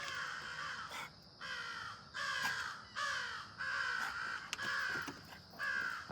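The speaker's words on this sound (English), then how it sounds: "Crows are just going nuts." Several crows caw in repeated bursts of harsh calls on a late-summer Vermont property near Jay Peak, fairly close and loud, coming in rhythmic groups with short pauses between them.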